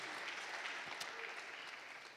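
A church congregation claps together in a dense, steady patter of applause, heard faint and distant without talk.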